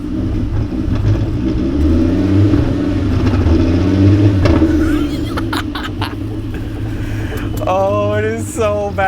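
Rough idle from a Mark IV Golf GTI, a cheap worn winter beater with a failing alternator: steady low rumbling engine with uneven pulsing, close and loud, with brief voices and a squeal near the end.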